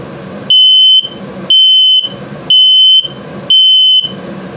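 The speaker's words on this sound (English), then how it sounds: "And low battery alarm." A low battery alarm inside a 2022 Zinger Lite 270BH RV trailer gives four loud, evenly spaced electronic beeps, each lasting about half a second, over a faint hum.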